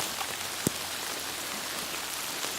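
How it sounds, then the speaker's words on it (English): Rain falls steadily through woods in spring, a dense, even patter on the forest floor and leaves with a single louder drop striking close by. "It's starting to rain pretty good"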